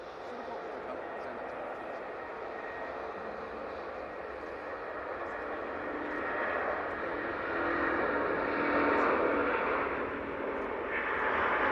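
A distant Virgin Atlantic airliner takes off at Manchester Airport, its broad engine roar building gradually and swelling toward the end. A voice talks intermittently over it.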